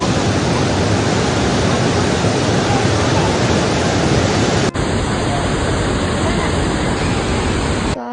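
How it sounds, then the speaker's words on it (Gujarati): The Saraswati river rushes near Bhim Pul, a loud, steady, unbroken roar of fast-flowing water that fills the whole clip without a pause. "તો આ તો સરસ્વતી નદીનું પાણી."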